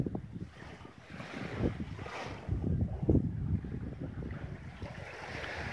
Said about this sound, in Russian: Наверное, тоже еще работают катера порыбачить.